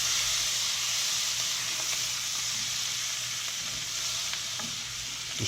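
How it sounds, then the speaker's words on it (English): A tablespoon of minced garlic fries in a pan for smoked stuffing, making a steady, close, bright sizzle that holds evenly throughout, with faint clicks and no voices. "Just cook the garlic first"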